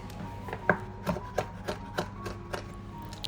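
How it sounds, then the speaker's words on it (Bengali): Fresh lemon leaves being chopped into small pieces with a knife, giving a quick series of close, crisp taps on a board at an even rhythm, fairly quiet with no talk. "লেবু পাতাটা একটু ছোট ছোট করে কেটে নিচ্ছি"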